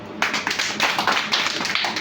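Loud group clapping from an audience at a talk, a dense run of overlapping claps lasting about two seconds with no voices over it.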